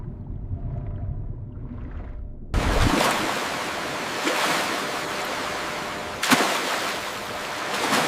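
Gentle sea waves wash in after a short low rumble, a broad steady swash with a soft surge partway through and another near the end, heard alone without voices.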